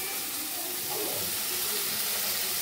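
Steady steam hiss and sizzle rise as water is poured over pointed gourd and shrimp frying in a pan, a continuous rushing sound that stays even throughout.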